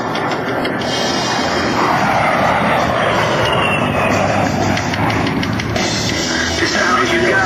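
An A-10 Warthog jet flies an airshow demonstration at the McGuire AFB open house, its loud sustained engine roar constant throughout.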